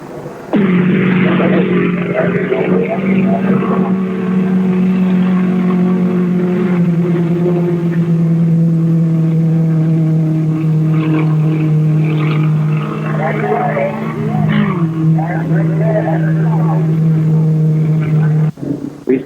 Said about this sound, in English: I'm going to show you parts of the first two races at various points around the course